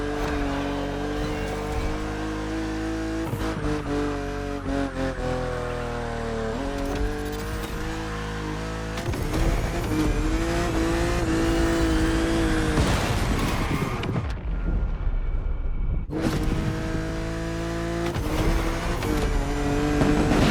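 A BMW car drives in The Crew Motorfest, its engine droning and revving steadily and loudly with rising and falling pitch, blended with game music and briefly dropping out midway.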